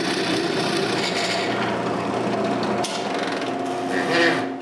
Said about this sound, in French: Maintenant, je peux couper le bout du goujon qui retiendra les deux bras ensemble.